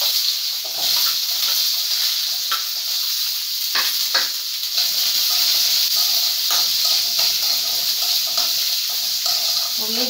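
Onions frying in a pan for a coconut chutney, a loud, steady, close sizzle with a constant hiss throughout.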